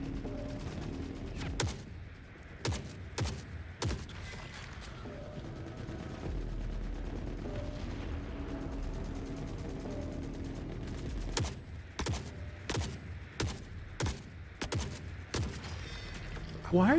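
Gunfire aimed at the player in the video game Forever Winter: scattered sharp shots and short bursts crack in clusters, some close and loud, over a steady rumbling background, with someone talking at times.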